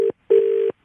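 Phone call disconnected tone after hanging up, two loud steady electronic beeps, one short and one longer, close and alone.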